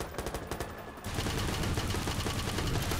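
Rapid automatic gunfire in the Watch Dogs video game, a fast burst of repeated shots that gives way after a second to a denser, louder continuous volley.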